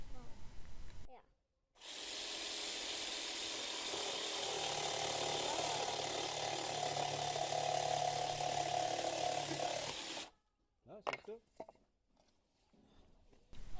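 A cordless jigsaw, bought as a discounter special offer, saws through wooden boat parts at an outdoor playground, a steady loud buzzing cut lasting about eight seconds, followed by a few clattering handling knocks.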